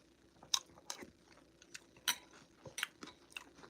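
Crunchy cereal being chewed close up, a series of sharp, crisp crunching bites spaced irregularly with quiet pauses between, no talking.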